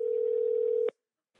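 A steady telephone dial tone hums alone at moderate volume for just under a second, then cuts off abruptly with a short click, leaving near silence before a phone call is placed.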